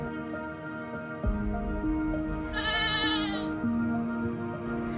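Goats bleat in a rural village near a coconut plantation, a few drawn-out wavering calls close by over a steady background of music-like tones.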